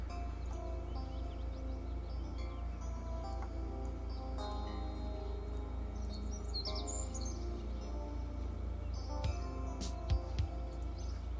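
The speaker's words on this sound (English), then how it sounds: "Can you guys hear the birds?" Birds chirp and call faintly in the background over a steady low hum, with scattered short tweets and a few brief clicks toward the end.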